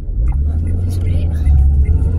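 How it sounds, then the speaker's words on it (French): A garbage truck rolls past in a town street, its heavy low engine rumble steady and close for a couple of seconds, with a voice faintly present nearby. "il y avait le camion de poubelle"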